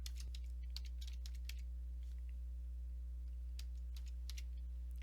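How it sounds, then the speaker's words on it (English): Keys on a computer keyboard tap in short quick bursts and single clicks, faint and close, over a steady low electrical hum. "You're going to hit Enter and type sincerely,"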